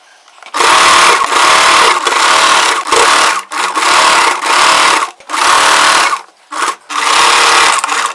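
An electric sewing machine stitches the layered frill of a churidar, running in loud, close bursts of rapid whirring and needle clatter, broken by short pauses where the fabric is adjusted, with no talking.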